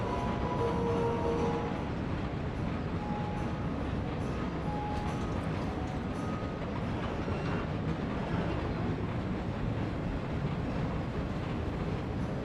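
A tram rolls along in the video game Lies of P, a steady, dense rumble with faint rhythmic rail clatter running throughout, fairly loud and with no talking.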